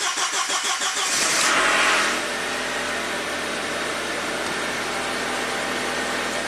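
A Volkswagen Passat 1.8T engine cranks with rapid starter pulses for about a second, then catches and settles into a steady, close idle.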